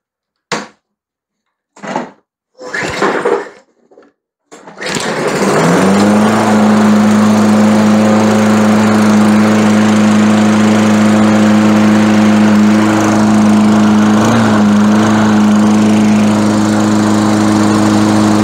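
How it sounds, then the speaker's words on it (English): Walk-behind lawn mower engine after a linkage repair: a few short pull-cord tugs, then the engine catches and settles into a loud, steady running drone close by. "Okay, now let's start her up and see what she does."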